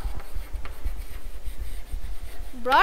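Pen writing on a board or paper in an English class, with soft scratchy strokes close by under low room noise and a brief squeak at the end.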